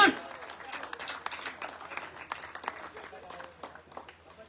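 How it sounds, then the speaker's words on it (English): Applause and scattered cheering from a crowd at a corporate rewards and recognition event, fairly quiet and uneven with distinct individual claps, voices mixed in. "I need extra thunder of applause. Come on, guys, for Vignesh."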